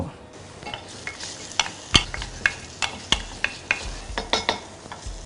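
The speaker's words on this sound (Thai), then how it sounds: "เอากระเทียมนี่แหละครับ ลงผัดกับน้ำมัน" Garlic sizzles steadily in soybean oil in a pan while a utensil scrapes and clacks against it in a quick, irregular stirring rhythm, close and fairly loud.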